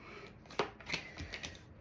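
Tarot cards being shuffled, a few soft papery riffles and flicks in quick succession, close and fairly quiet with no talking.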